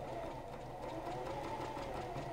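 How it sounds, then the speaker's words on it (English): A Janome CoverPro 1000CPX coverstitch machine sewing a seam in black fabric with white thread, a continuous close motor hum with fast rhythmic needle chatter. "you can sew seams, and I'm using white thread on black fabric just so you can see it better"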